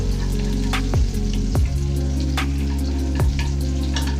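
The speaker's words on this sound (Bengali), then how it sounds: "নাড়াচাড়া করে এর মধ্যে দিয়ে দেবো পেঁয়াজ কুচি। একটু লালচে করে নাড়াচাড়া করে নেব।" Chopped onion frying in hot oil while being stirred, a steady loud sizzle broken by several scraping strokes of the spoon against the pan, with no talking.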